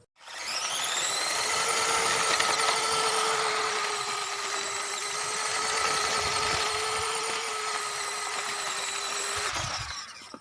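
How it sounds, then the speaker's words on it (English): Small 130-size electric motor in a JJRC Q60 6x6 military RC crawler strains with a steady high whine and squeal, close and loud, for about ten seconds, then cuts off abruptly. "the little 130 motor just doesn't have a whole lot of power. Tries to spin."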